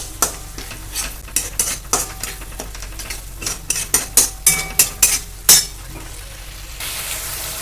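Ground spice paste sizzles and fries in a pan for a red lentil and potato dish, with a steady hiss broken by a dozen sharp scraping stirs of a spatula, close and fairly loud, no voices.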